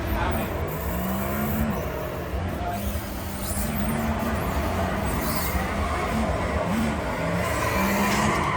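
A car engine drones loud and steady close by for several seconds, a continuous rumbling roar with a voice talking faintly underneath.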